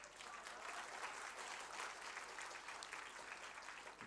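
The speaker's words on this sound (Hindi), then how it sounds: "आप तालियों के गड़गड़ाहट से सुन सकते हैं" Steady, sustained applause from a crowd gathered for a lunar landing descent broadcast, an even wash of many hands clapping at moderate distance with no break throughout.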